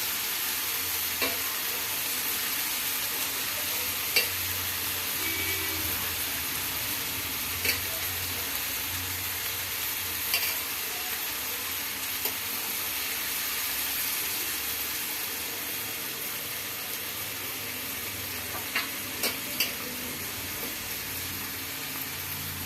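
Ingredients stirred in a cooking pan over a steady sizzling fry, with soft scraping and occasional sharp clicks of the utensil against the pan, close by and with no talk.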